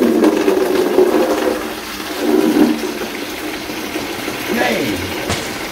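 Water gushes steadily from a newly fitted outdoor garden tap with no nearby supply, a loud continuous rushing that swells and dips over several seconds, with faint voices in the background.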